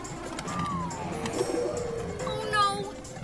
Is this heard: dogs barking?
no